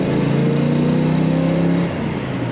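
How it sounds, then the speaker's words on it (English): A 1968 Pontiac Firebird convertible engine revs loud and close, a steady rising roar that drops off abruptly near the end, with no talking over it. "Revving up nicely."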